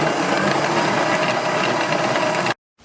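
An electric mixer runs at a steady high speed whipping cream for a Black Forest cake, a loud continuous motor whir that cuts off abruptly near the end.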